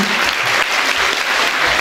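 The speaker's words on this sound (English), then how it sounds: "A huge round of applause for ma'am." A large audience at a literary fest in Chandigarh applauds steadily, a dense, loud wash of clapping that fills the whole moment without letup.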